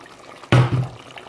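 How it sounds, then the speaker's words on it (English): A small splash of water poured into a pot of mutton curry, a single short burst of liquid hitting the food with a brief second splash right after. "now I'm going to add a little bit of water"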